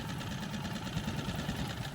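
An outboard engine on an inflatable Seapro fishing boat idles in a steady, low, even drone that holds throughout without any change in pace.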